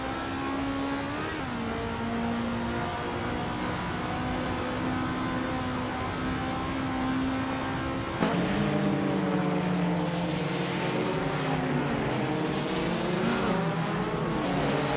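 A 1970 Simca Rally 3 racing engine in a video game drones steadily at high revs, its pitch holding level, then jumps sharply around the midpoint and sweeps through shifting tones as other cars snarl nearby. No voices.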